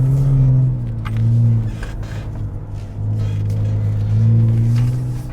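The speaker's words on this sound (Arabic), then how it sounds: "بالشارع السيارة جدا مزعجة، سيارة بر مو سيارة شارع" Engine noise from a special-edition Nissan Patrol Safari as it drives on the road: a loud, close, droning low growl that swells and eases with throttle, with no talk over it.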